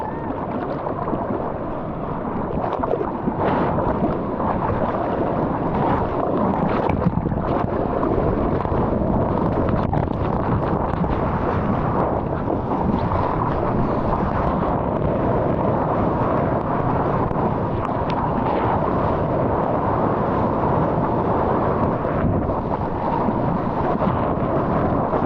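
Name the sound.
ocean waves breaking at a surf point break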